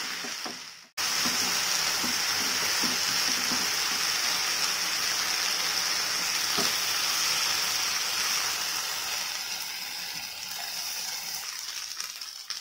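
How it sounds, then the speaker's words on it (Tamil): Eggplant pieces sautéing in a pan on high flame, a loud continuous sizzle held throughout with occasional light stirring clicks, close and alone. "இந்த கத்திரிக்காய் சேர்த்தாச்சு இதுவும் நல்லா வதங்கணும் நல்லா ஃப்ரை பண்ணி விடுங்க ஹை ஃப்ளேமில் வச்சு நல்லா வதக்கி விடுங்க"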